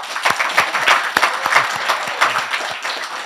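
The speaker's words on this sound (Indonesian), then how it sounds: "Ramai banget tepuk tangannya." Studio audience at an Indonesian talk show applauds a guest, a dense, steady burst of many hands clapping close by with no speech over it.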